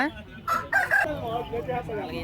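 Rooster crowing nearby at a fighting-rooster market, one strong crow with clucking fowl around and a voice talking underneath.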